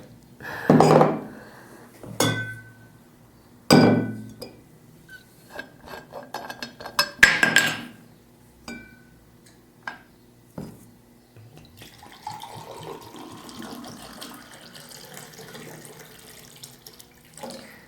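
Glass clinks sharply a few times, then water runs from a tap into the glass in a steady stream, with no talking.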